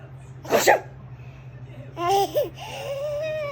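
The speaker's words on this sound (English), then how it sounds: "you're sneezing again" An 11-month-old baby gives one short, breathy fake sneeze, then follows it with giggly babbling and squeals, all close up in a quiet room.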